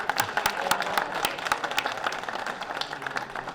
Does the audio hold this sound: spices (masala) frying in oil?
no